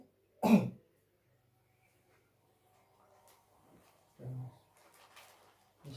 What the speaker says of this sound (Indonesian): Terakhir dibatukan ya mas.